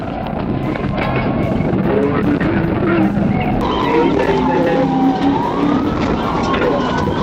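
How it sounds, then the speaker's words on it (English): A fleeing Chrysler skids out after a police PIT maneuver in a Georgia chase, loud road roar with tire screech and a wailing police siren, while a narrator talks over it. "a trooper executed a pit maneuver, a tactic designed to safely disable a fleeing vehicle"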